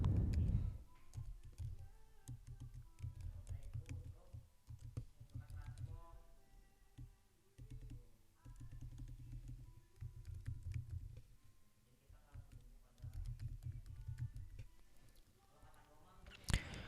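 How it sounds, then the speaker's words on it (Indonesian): Someone types an email address on a computer keyboard in quiet bursts of rapid key taps separated by short pauses, faint and close. "Anda ketik email."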